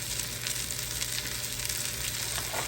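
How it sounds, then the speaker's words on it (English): Round steak, salted and peppered, sautéing in a pan with a steady, close crackling sizzle running unbroken and fairly loud throughout. "So I have decided to saute it."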